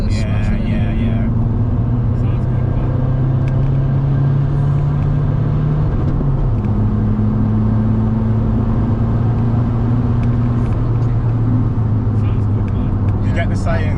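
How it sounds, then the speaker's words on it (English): Skoda Fabia vRS diesel hot hatch engine droning loudly from inside the cabin, holding a steady high pitch that jumps and resumes as it bounces off the rev limiter, with occasional faint voices. "You can hear the limiter smashing."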